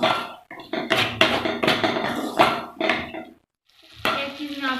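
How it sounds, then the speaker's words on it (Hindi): Spoon and pan clatter while a macaroni and egg mixture with black pepper is stirred and fried, scraping and clinking in quick uneven strokes up close, then a brief pause before the stirring resumes. "अब इसको अच्छी तरह से भून लेंगे।"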